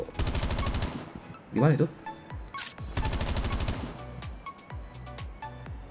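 Rapid automatic gunfire in the mobile shooter game Call of Duty: Mobile, clipped bursts separated by short gaps and interface beeps, with someone briefly speaking between volleys.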